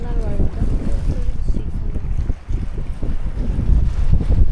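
Heavy wind buffeting the microphone with low rumbling gusts and a brief lull midway, on open water off Marmara Island, Turkey, with faint voice-like sounds.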